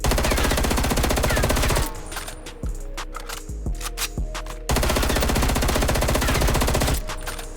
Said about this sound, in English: So this is just shooting it regularly, holding down R2.